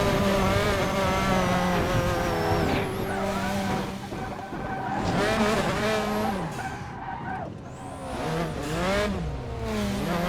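Race cars in an oval-track racing video game roar past with layered, rising and falling engine whines, revving pitches shifting as several cars close in and pull away, loud and continuous with brief tyre squeals.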